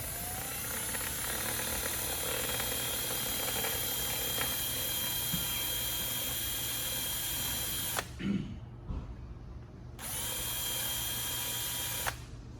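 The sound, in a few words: drill bit drilling during rear deluxe install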